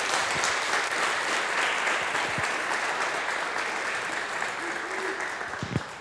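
A church congregation applauds steadily, a dense, even wash of clapping filling the room throughout, with faint voices underneath.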